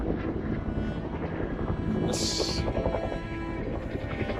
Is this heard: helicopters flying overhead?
yes